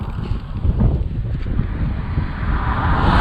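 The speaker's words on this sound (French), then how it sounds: "Arrivé en Croatie, beaucoup de vent" Strong wind buffets a motorcycle rider on a Croatian road, a steady, loud roaring rush of air with no voices.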